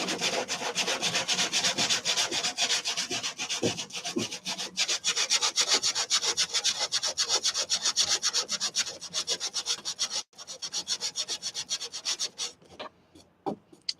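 Wood being sanded by hand during a box truck build, a steady, close scratchy rubbing with quick repeated strokes that runs almost continuously, with one short break.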